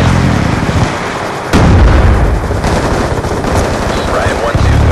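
Rapid aircraft cannon fire rips through a flight combat game as guns strafe a ground target, one long loud continuous burst starting about a third of the way in over steady engine roar, with radio chatter underneath.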